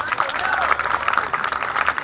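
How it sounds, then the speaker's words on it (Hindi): Students and guests at a coaching institute's farewell party in Jhalawar clap for the program host, a brisk, close round of applause with a voice speaking over it. "5 मिनट तक ताली बजाइए"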